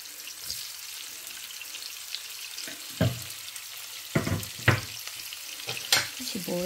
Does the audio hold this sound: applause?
no